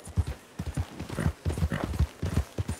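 Horse hooves clip-clop in the Red Dead Redemption 2 video game, a quick uneven gallop of close, distinct hoof strikes sounding alone.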